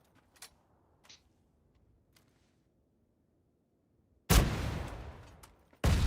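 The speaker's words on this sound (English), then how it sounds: "They're shooting at me now." Video game gunfire: a few faint distant sharp cracks in near silence, then a sudden loud sustained burst of close firing that decays, followed by another loud burst at the end.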